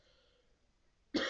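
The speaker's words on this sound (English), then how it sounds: "Man, I've been coughing for a while now." A single short, close cough bursts out at the very end after near silence.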